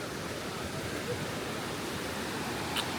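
Steady rushing water from a stream in the Takachiho Gorge area of Japan, a continuous broadband flow that stays even and fairly close throughout, with no talking.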